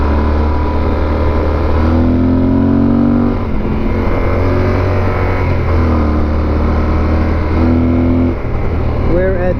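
A Yamaha Super Tenere motorcycle riding Route 33 in West Virginia downshifts and then accelerates, its engine a loud, steady close drone whose pitch dips and climbs with the gear changes, over constant wind rush.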